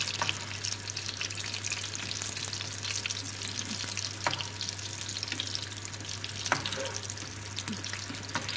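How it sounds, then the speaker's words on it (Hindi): Spring rolls frying in hot oil, a steady close crackling sizzle with occasional sharper pops throughout, no speech. "अब ये रोल फ्राई हो चुके हैं"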